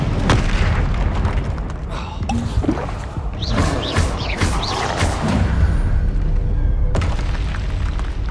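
Spell blasts and explosions from combat in Hogwarts Legacy, a loud continuous barrage of booms, crackles and bursts, with a voice speaking over the chaos.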